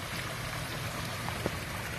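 Water pouring from an aquascape spillway bowl into a waterfall return, a steady close-up splashing trickle over a constant watery hiss, with no one talking.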